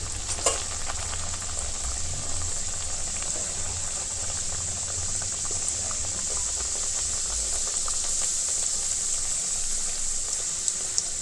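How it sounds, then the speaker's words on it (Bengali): Garlic dal puris deep-fry in hot oil with a constant, even hiss and bubbling sizzle that carries through the whole stretch at a moderate, close level. "তেলটা গরম হয়ে এসছে অনেকগুলো বেলা হয়ে গেছে চলুন এরপরে ভেজে নিই"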